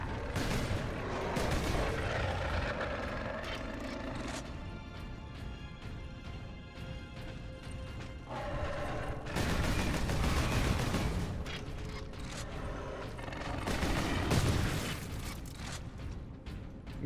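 Assault bolt rifle fire from a Space Marine in a Warhammer 40K shooter game, a dense, sustained rattle of bursts with booming impacts and mechanical clatter. It stays loud across the whole stretch and swells in heavier volleys near the middle and end.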